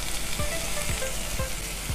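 Capsicum sizzles and fries in a pan with red chilli powder in a home kitchen, a dense steady crackle with occasional stirring scrapes, close and fairly loud, no talking.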